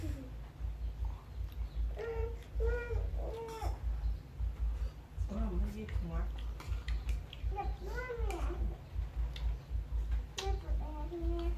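A cat meows several times in short rising-and-falling calls, spaced a few seconds apart, fairly faint, with voices and a low steady hum in the background.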